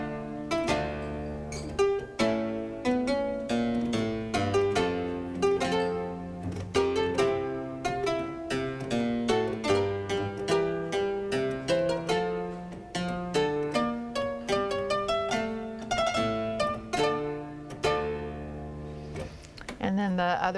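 Harpsichord with the lute stop engaged, playing a repeated Baroque phrase with added ornamentation; dense plucked notes in a steady flowing rhythm, close and clear, with no talking.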